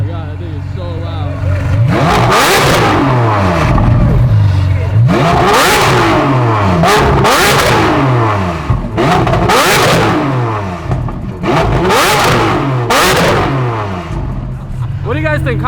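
Lamborghini Aventador SVJ V12 engine revving hard in repeated loud bursts, each climbing and falling in pitch, close and dominant with short gaps between revs.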